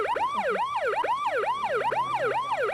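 An ambulance siren wails steadily and continuously, sweeping up and down in a rapid repeating cycle as the vehicle arrives at a first aid training session, loud and alone with no talk.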